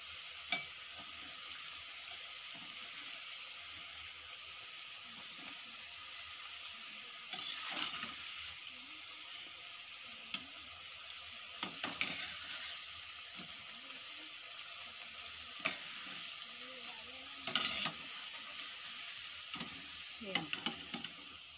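Onion pakoda deep frying in hot oil makes a quiet, steady bubbling hiss with occasional soft clinks and stirring sounds.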